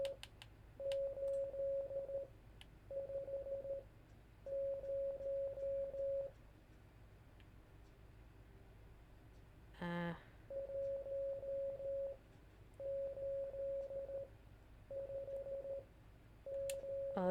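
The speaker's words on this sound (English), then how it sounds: "Oh, that's Morse code." Morse code beeps in the video game Curious Cases come in short, steady tone bursts grouped in regular clusters with brief gaps, faint and clean, broken once by a sharper electronic blip.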